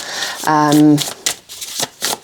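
Soft papery riffles of tarot cards being shuffled at close range, broken by a brief hummed vocal sound partway through.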